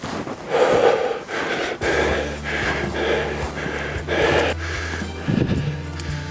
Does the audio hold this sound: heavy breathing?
yes